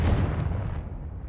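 A Confringo blasting spell explodes in the Hogwarts Legacy video game, one loud booming blast at the start that rumbles and fades out over about a second.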